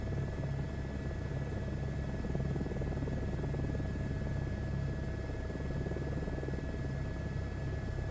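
Airbus H125 helicopter in the MSFS 2024 flight simulator, a steady turbine whine and rotor drone holding at even loudness throughout with no pauses, a thin high tone riding above the low rumble.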